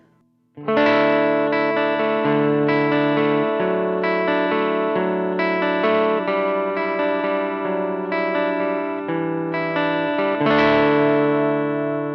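An electric guitar on its bridge pickup plays through a Marshall Class 5 amp, strumming a run of loud, sustained, distorted chords that ring with bright overtones from start to finish.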